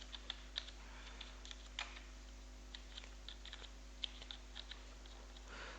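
Quiet typing on a computer keyboard while entering text in Excel, soft irregular clicks close by over a steady low electrical hum, with no talking.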